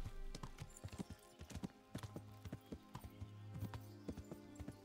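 Horse hooves clip-clop at a steady riding pace in the Kingdom Come Deliverance video game, an irregular stream of hollow knocks over a low ambient drone, with no talking.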